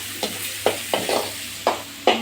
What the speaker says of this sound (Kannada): ಒಗ್ಗರಣೆ ಹಾಕತ್ತೀವಿ ನೋಡ್ರಿ